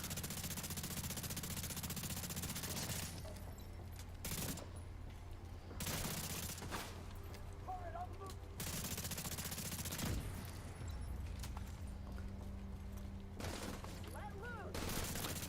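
Gunfire in The Division 2 comes in repeated bursts of automatic fire between brief pauses, loud and constant against a busy game soundscape, with occasional faint voices underneath.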